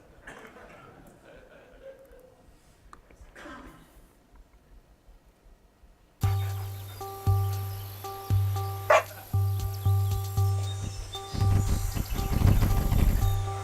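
Puppies in a DirectML demo video game, with about fifty of them running toward a robot-like device holding bones, heard after a quiet stretch as repeated close, rhythmic game sound effects over a steady tone.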